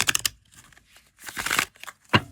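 A tarot card deck is shuffled with a quick run of crisp riffling flutters, then a longer papery rustle and a final snap of cards close by.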